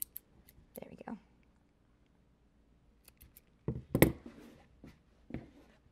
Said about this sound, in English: Now, if you have any little loose ends, this is the time to cut them off.